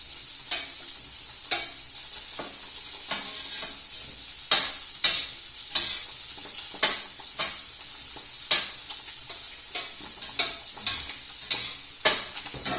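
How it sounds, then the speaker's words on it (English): Asparagus tossed and stirred in a hot pan, a steady bright sizzle underneath regular scraping strokes of the utensil every second or so, close and clear with no talking. "I'm going to toss my asparagus so it gets nice and coated"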